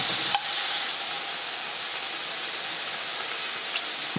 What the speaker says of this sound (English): heat a glug of oil in a heavy bottom frying pan or a cast iron casserole dish like this, and saute the pork on each side